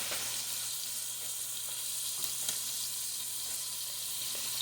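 Chopped pepper and onion sizzle steadily in a pan for chili, a soft continuous frying hiss with faint stirring clicks and no voices.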